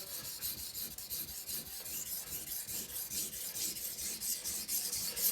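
A steel knife blade rasps steadily against a whetstone in quick repeated strokes, a bright, gritty scraping that stays close and even throughout with no talking.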